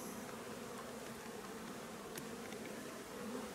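Honeybees and foragers buzzing around a grey nucleus hive outdoors, a steady even drone of many insects throughout, fairly soft and unbroken, with no talk.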